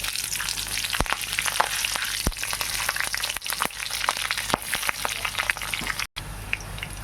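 Dried and green chillies crackle and sizzle in hot oil in a pan, a dense steady frying hiss with sharp pops scattered throughout, close and fairly loud.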